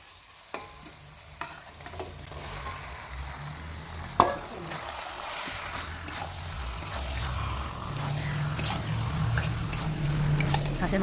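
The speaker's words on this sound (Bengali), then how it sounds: "হাঁসের মাংস লাল হয়, দেখতেই পাচ্ছ ভালোভাবে কষানো হয়ে গেছে" Duck meat is stirred and sautéed with spices in a pot, giving a close crackling sizzle with repeated scrapes and clinks of the spoon under a constant low hiss, with a voice talking over it.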